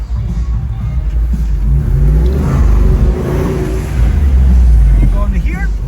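A Jeep Wrangler Rubicon 392 with its 6.2-liter Hemi V8 revs at the New York auto show. The deep engine roar rises and holds steady throughout, close and loud, with people talking over it.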